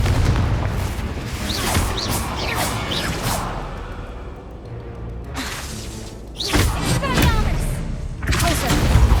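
Confringo blasting spell explosions in the video game Hogwarts Legacy: several booming bursts with whooshing and shattering debris that rise out of a dense, busy game soundscape.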